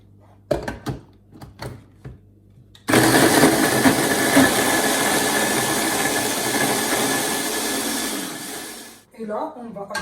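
An electric blender blends onions for Moroccan harira soup, a loud steady whirring roar lasting about six seconds before cutting off, with brief clattering and handling sounds around it.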